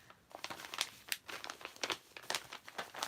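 Calico fabric pieces being folded over, giving close, soft crinkling and rustling in irregular bursts, quiet with no talking.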